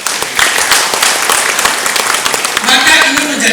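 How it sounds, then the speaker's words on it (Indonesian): An audience at a government program launch in Malang, Indonesia, breaks into a burst of hand clapping, a dense crowd patter with a voice talking over it. "Tepuk tangan dong."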